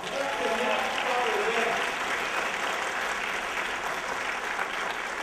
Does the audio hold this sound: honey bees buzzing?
no